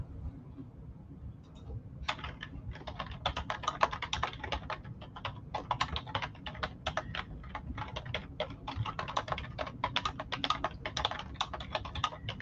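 Rapid, uneven clicking of keys on a computer keyboard, close and moderately loud, with short pauses between bursts of typing and no voices.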